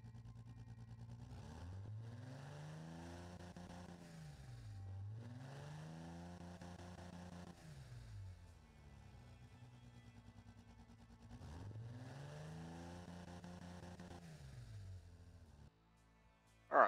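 Car engine in the Automotive game, idling and revving in repeated rising and falling surges with a calmer idle stretch between them, heard alone and fairly close.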